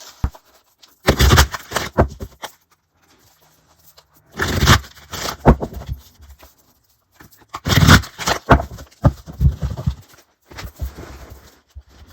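A tarot card deck is riffle-shuffled several times. Each shuffle brings a quick fluttering burst of flicking cards and then a softer tap as the deck is squared, close and with no talk.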